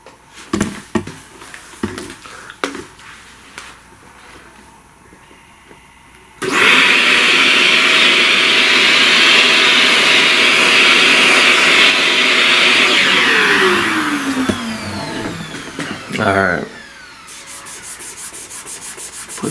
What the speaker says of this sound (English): let's vacuum.